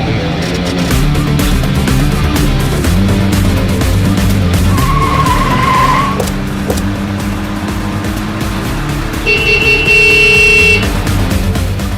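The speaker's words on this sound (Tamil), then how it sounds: "எதுக்கு இப்படி ஹார்ன் அடிக்கிறாங்கன்னு தெரியல" A car horn honks repeatedly during an overtake on the road, sounding in loud, sustained blasts over close, steady engine and traffic rumble, with a last long blare near the end.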